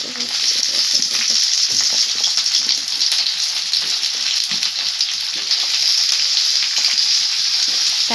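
Potatoes hit a pan of onions fried deep red for chicken soup, giving a dense, continuous loud sizzle with light stirring noises throughout, close up and without speech.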